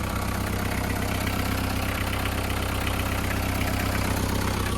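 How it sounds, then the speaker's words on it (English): A car engine idles steadily and loudly up close, a continuous even rumble with a faint knocking undertone and no speech over it. "And the engine seems good."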